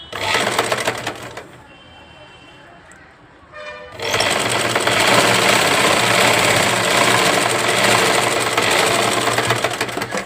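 A sewing machine stitches cloth with a loud, fast mechanical whir, stops for a couple of seconds, then runs again steadily and close up.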